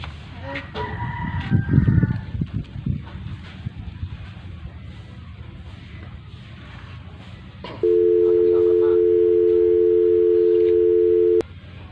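A steady telephone dial tone sounds loud and continuous for about four seconds near the end, following a stretch of background voices and household noise in a Sundanese-language comedy skit.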